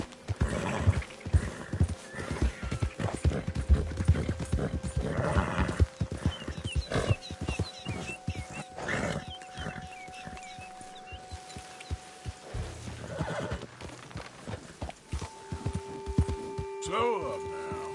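Horse hooves clip-clopping at a steady gait in the Red Dead Redemption 2 video game, with a whinny and occasional snorts, close by, while someone talks over parts of it.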